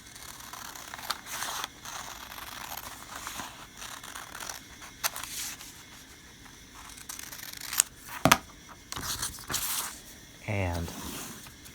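Scissors snip through fabric while cutting out a welt pocket opening, a few short crisp cuts and rustles close by, with quiet handling sounds and paper crinkle between them.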